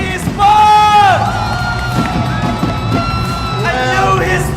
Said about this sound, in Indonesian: Berikan tepuk tangan untuk Onyx Esports.